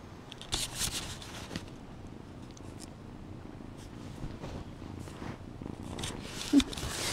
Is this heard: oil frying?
no